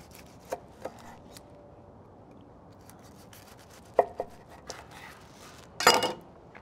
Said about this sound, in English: Cut a couple slices off here.